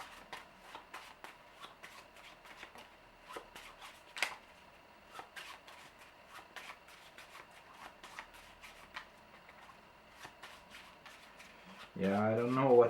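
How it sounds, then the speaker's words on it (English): Deck of game cards being shuffled during a Forbidden Island board game, a quiet series of quick papery riffles and taps, with a voice coming in near the end. "We have to shuffle this."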